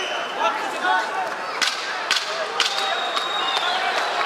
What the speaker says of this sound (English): There's the 10-second clapper.